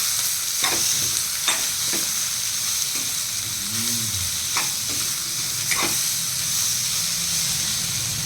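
Spoon scraping and stirring a spiced samosa filling with chili powder, turmeric, salt, black masala and ground coriander in a pan, steady soft sizzle underneath with several sharp scraping clicks at irregular intervals.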